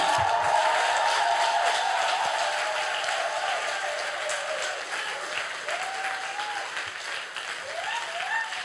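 A church congregation claps for the Lord in sustained loud applause, with scattered cheering voices rising over the clapping throughout.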